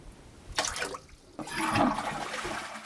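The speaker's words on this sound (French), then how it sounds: "Pour tirer la chasse d'eau, il faut que je remplisse avec un bidon." A toilet flushes with water poured in from a jerrycan, a short nearby whoosh followed by a louder gurgling rush of draining water, heard alone.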